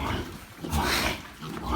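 A pig in a farm pen gives low, rough grunts in short bursts, close and fairly quiet, with no talking during them.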